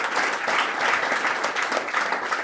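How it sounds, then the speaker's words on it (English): A hall audience at a business meeting claps steadily for a person, a dense, even wash of many hands, close and loud, with no voices over it. "Let's give her a round of applause."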